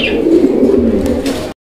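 Pigeons coo steadily in a low, rolling murmur, a pair of shirting pigeons kept at a fancy-bird seller's loft, with a brief faint chirp near the start and an abrupt cut just before the end.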